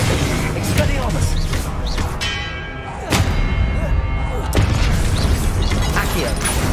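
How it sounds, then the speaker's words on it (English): Expelliarmus spell cast in Hogwarts Legacy, rendered as sharp magical bursts and booming impacts with ringing, bell-like tones between them, loud and close amid busy game noise and some voice. "Expelliarmus."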